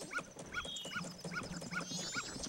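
A dog in the video game The Legend of Zelda: Majora's Mask gives a repeating series of short whimpering growls and yelps, about five bursts in steady rhythm, close and clear over game background sounds.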